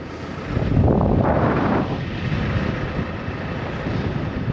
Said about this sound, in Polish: Konkretnie dzisiaj wieje